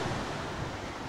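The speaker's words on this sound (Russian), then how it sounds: "Вот оно и море." A continuous broadband wash of surf and wind, steady and fairly loud with a rumbling low end, like standing near waves on a breezy beach in Anapa on the Black Sea.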